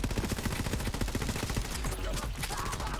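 Dense, continuous rapid gunfire from the video game Borderlands 3, relentless overlapping shots and impacts filling the whole stretch, loud and busy.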